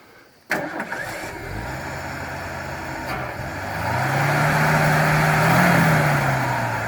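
A 1968 Ford F100 pickup truck, left forgotten in the woods for 20 years, cranks briefly then fires up and settles into a loud, rough running idle that swells slightly as it revs.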